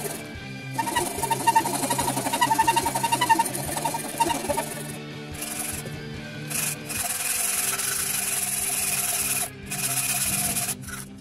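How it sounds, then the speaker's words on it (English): Sandpaper wrapped around a dowel rubs along a wooden sword blade, producing close, rhythmic rasping strokes in bursts with short pauses between them, and no voices. "To round off concave shapes, just rip a dowel with sandpaper."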